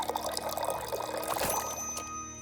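Liquid pours steadily into a drink being filled in the Tavern Talk game, a continuous soft trickling stream that runs alone at low volume for a couple of seconds.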